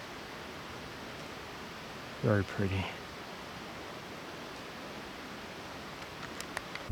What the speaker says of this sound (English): And the waterfalls in the background